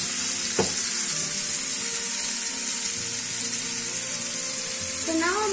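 Basa fish fillets sizzle and crackle in a hot pan, a steady close frying hiss with a few clicks of stirring and utensil contact.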